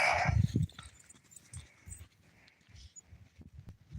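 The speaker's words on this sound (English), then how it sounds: "Can you please not bark my ear off?" A dog gives a few short, muffled barks at close range, separated by quiet gaps with some faint shuffling.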